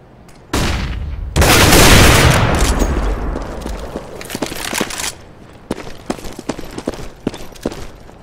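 Gunfire and a flashbang blast in the video game CS:GO: a sharp burst, then a long loud roaring blast that fades, followed by scattered rapid gunshots and clicks.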